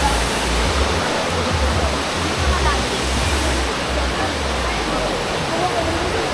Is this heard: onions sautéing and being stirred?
no